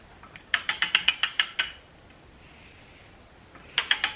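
A 3/4-inch drive ratchet clicks in a quick run of about eight sharp pawl clicks, then pauses and starts another burst, tightening a timing cover bolt on an LS engine; close and clear with no talk.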